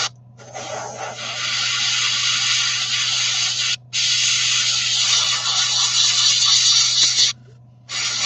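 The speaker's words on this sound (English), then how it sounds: "at the moment I'm still learning how to use this airbrush" An airbrush sprays paint onto scale Sdkfz 251 halftrack models, making a close, steady hiss in long bursts broken by two brief pauses, over a low constant hum.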